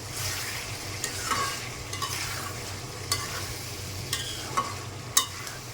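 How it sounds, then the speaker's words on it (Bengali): Mutton pieces fry in a pan with a soft, constant sizzle while being stirred, with scattered spatula scrapes and taps. "মাংস ভাজা করে হয়ে গেছে।"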